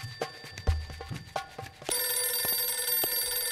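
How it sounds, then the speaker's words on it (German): In the video game The Next Big Thing, an electronic telephone bell starts ringing partway through, a bright continuous trill over faint clicks and low background thuds, with no voices. "Telefon klingelt? Warum?"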